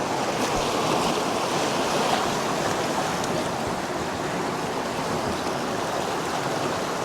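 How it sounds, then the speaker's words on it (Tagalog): The Granby River flows past the dam site near Grand Forks, British Columbia, a dense, steady rush of water with some wind rumble against the microphone and no voices. "Muna siya nga suba."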